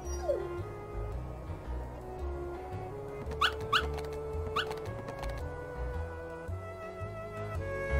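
Puppies whimpering and yipping in Kingdom Hearts, short high yelps standing out over game music and low background tones, moderately loud with no talk.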